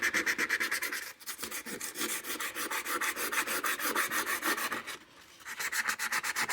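Steady abrasive rubbing as a part of an EAA Windicator .357 Magnum/.38 Special revolver is sanded by hand, close and continuous with rhythmic back-and-forth strokes and two brief pauses.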